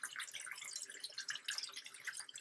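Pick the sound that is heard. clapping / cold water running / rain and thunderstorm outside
cold water running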